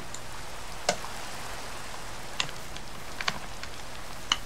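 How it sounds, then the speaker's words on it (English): Light, sparse ticks of raindrops in a video game hitting a surface over a soft steady hiss, with a few sharper drips standing out. "because now it's raining."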